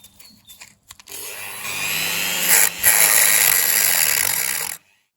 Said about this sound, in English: chop through that pretty easily with the Dremel